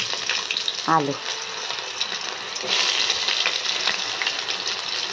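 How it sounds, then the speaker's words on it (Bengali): Potato and pumpkin pieces sizzle steadily in hot oil, with scraping stir strokes and a brief bubbling splash near the start, close and moderately loud. "আলু আর কুমড়ো এগুলোকে তেলে ছাড়লাম, ছেড়ে একটু নাড়ছি"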